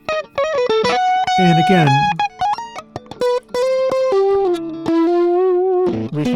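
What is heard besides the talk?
guitar distortion from Airwindows Coils2 plugin, Marshall stack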